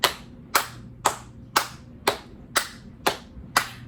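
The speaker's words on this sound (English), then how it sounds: "we're going to keep patting and clapping" Hands clapping eight times in a steady, even rhythm at about two claps per second, crisp and close with nothing else heard.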